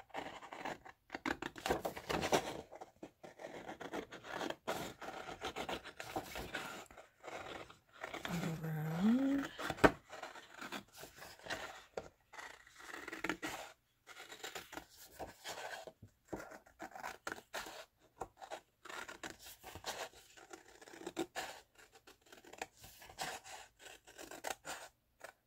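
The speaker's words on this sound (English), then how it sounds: "now I'm going to cut this circle" Scissors cut out a paper circle for a pillow sham journal, producing soft, quiet snips and crisp paper rustling in irregular bursts, close up and otherwise fairly still.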